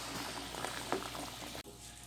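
Water and sugar boil steadily in a pot for sooji halwa, a continuous bubbling hiss with small pops, close and fairly quiet.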